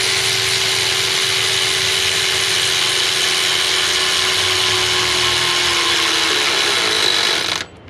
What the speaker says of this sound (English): The ratchet's going good.